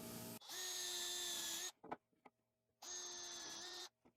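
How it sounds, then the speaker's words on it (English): A power drill pre-drills bolt holes in wood on a table saw featherboard setup, running in two steady whining bursts of about a second each with a short pause and small knocks between, close and clear. "we can pre-drill some holes for some bolts"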